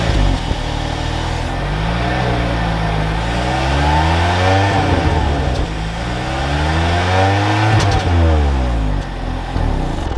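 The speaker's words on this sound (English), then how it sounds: "Let's take this EX Hybrid out and see how she drives." A 2021 Kia Sorento EX Hybrid SUV pulls away, its engine loud and close from inside, rising and falling through repeated revving sweeps as it accelerates, with no one speaking.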